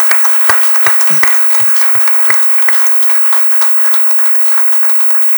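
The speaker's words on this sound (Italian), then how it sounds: "un applauso per Paolo." Audience applause at an evening event as a mayor is about to speak, a steady dense patter of many hands with sharper individual claps, fairly close and continuous throughout.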